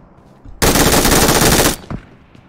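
Automatic gunfire in the mobile battle royale game PUBG Mobile, a single sustained burst of about a second, loud and dense, followed by a brief softer report.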